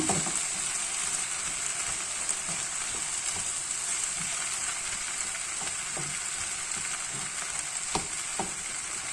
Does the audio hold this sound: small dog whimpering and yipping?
no